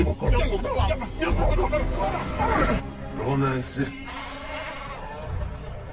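Several sheep bleat close by, overlapping calls with a crowd's murmur in the background.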